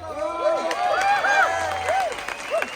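Audience at a Corupo and Pamatacuaro dance gathering in Michoacán clapping and cheering briefly, a short burst of applause with crowd noise and whistle-like calls close by.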